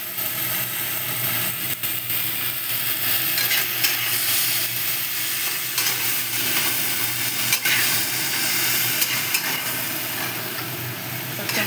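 Eggplant and rinsed bitter gourd leaves sizzle and fry steadily in a pan, with a continuous close hiss and faint stirring scrapes, no talking.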